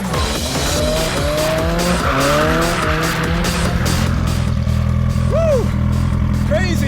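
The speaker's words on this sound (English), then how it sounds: "we're at the world famous Kouvola racetrack doing some drifting with cars" Cars drift around the Kouvola racetrack with engines revving up and down and repeated tire squeals sweeping through. The sound is loud and close, and voices are faint in the background.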